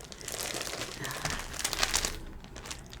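Plastic sticker sleeves crinkling and rustling as they are handled up close, a continuous crisp crackle for most of the moment that thins out near the end, with no voices.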